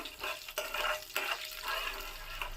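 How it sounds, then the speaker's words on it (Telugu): Cumin seeds and urad dal frying in hot oil in a pan, a soft continuous crackle broken by repeated scraping strokes of a spoon stirring, close and fairly quiet. "జీలకర్ర వేసుకుంటున్నానండి మినప్పప్పు వేస్తున్నానండి వీటిని బాగా వేయించుకుందాము"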